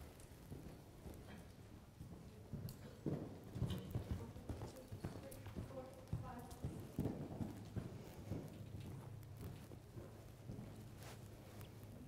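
A horse canters at a jumping clinic over a 2'9"-3' jumper course, its hoofbeats coming as faint, distant, rhythmic thuds across a quiet outdoor arena.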